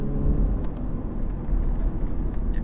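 A 2014 Lexus IS300h hybrid accelerating hard in sports mode, a steady loud engine drone with low rumble filling the interior throughout, no talking.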